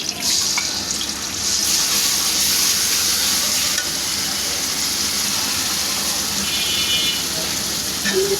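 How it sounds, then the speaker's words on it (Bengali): Ground spice paste fries and hisses steadily in hot oil in a wok for a Bengali mrigel fish and potato curry, with continuous scraping and stirring throughout and a faint trickle of water. "বাটা মশলাটা দিয়ে দিলাম"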